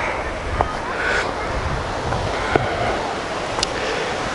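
Lake water laps and washes steadily at a shoreline, with wind buffeting the microphone and a few faint knocks in the background.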